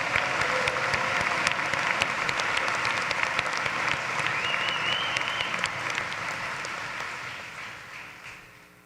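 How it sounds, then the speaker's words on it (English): A large crowd applauds entrepreneurship graduates at a 2023 commencement in Gentile Arena, broad and reverberant, with sharp individual claps standing out from the wash before it slowly tapers off. "Let's give a round of applause for our entrepreneurship graduates."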